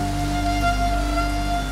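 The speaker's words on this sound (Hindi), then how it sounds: "वर्षा तो थमने दीजिए।" Steady rain falls continuously under a loud hum with a sustained tonal drone, a dense unbroken wash with no voices.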